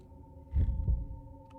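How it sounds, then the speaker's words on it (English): A heartbeat effect from the horror video game Fatal Frame 3: two deep, muffled thumps close together, lub-dub style, over a steady low hum, followed by quiet. "Why do I hear my heartbeat like during that?"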